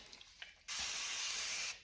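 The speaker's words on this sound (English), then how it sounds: "I'm just spraying my brush a little bit" Water sprayed from a spray bottle onto a wet paint brush while applying an iron oxide raku finish to a dresser: a single close, steady hiss of spray lasting about a second, following a quiet moment.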